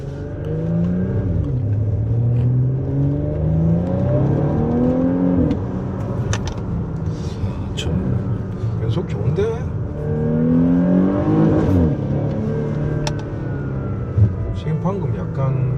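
A Porsche Panamera engine with a slight stumbling hiccup revs repeatedly, its pitch rising and falling in waves, while people talk over it throughout.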